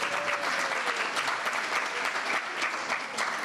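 Loud, dense applause from the audience at a poetry evening welcoming Chatur Ali, with steady clapping filling the whole moment.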